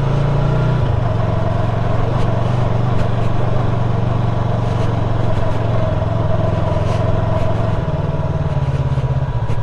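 Yamaha R3 motorcycle ridden off-road on the way to Kailasa Giri, its engine droning steadily and loud throughout, close up with a continuous low rumble and no talk.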